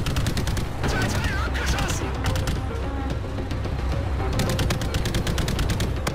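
Heavy gunfire in the VR space-combat game Call of Duty Jackal Assault on PlayStation VR, loud rapid machine-gun bursts and dense crackling fire over a rumbling background with game music, continuous throughout.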